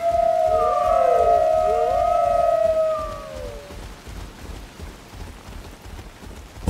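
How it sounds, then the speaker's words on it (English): Steady rain pours in the survival game Soulmask, a broad hiss running the whole time, while a loud tonal whoosh with sliding pitches dominates the first three seconds before fading, leaving only the rain. "Is it finally going to quit raining?"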